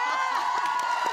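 Comedy club audience gives a brief, dense burst of cheering and whooping at a stand-up show, a noisy crowd swell with no clear individual voices.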